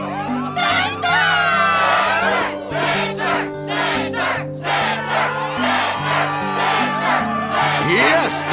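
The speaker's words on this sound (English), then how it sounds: "Yes, the crowd is fired up," A crowd in Kingdom Hearts II roars and cheers continuously at a Struggle tournament over a steady musical score, with bursts of shouting rising and falling throughout.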